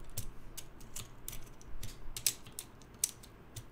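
Vintage NOS Cherry MX Black switches are pulled out of a keyboard, giving sharp, close plastic clicks and ratchety snaps at an irregular pace, with a couple of brighter pops standing out.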